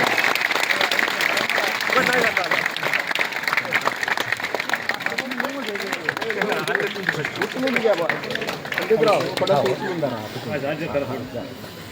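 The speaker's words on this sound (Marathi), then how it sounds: "टाळ्यांच्या गजरामध्ये दादांचं स्वागत झालं पाहिजे, सर्व टाळ्या वाजवा" Villagers clap steadily in welcome for about twelve seconds, a dense and continuous patter that stays loud throughout, while voices from the gathering murmur and call out underneath.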